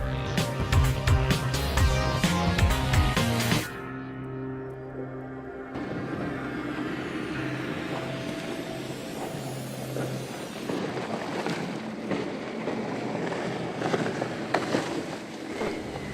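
Frauscher 1017 boat powered by twin 300 horsepower Mercruiser 350 MAG engines, a steady engine drone running throughout with music over the opening seconds, no talking.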